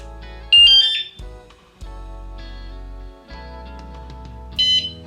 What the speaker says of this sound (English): That's our beep telling us that the system is now armed.